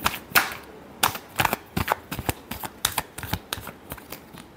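Tarot cards are shuffled up close in a last shuffle, a run of quick sharp riffling snaps and slaps in irregular bursts.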